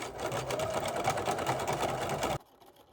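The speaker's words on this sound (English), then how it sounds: "Stitch around your curves carefully, doing your best not to stretch the fabric as you sew" Sewing machine stitching soft power mesh fabric for scrunch gloves, a loud steady rapid mechanical whir running continuously for over two seconds before stopping abruptly into near silence.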